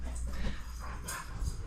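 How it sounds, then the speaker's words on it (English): Dogs whimpering and whining indoors in a garage during drift car prep, soft high-pitched whines rising and falling over a constant low background hum, no speech. "What the fuck are these dogs doing?"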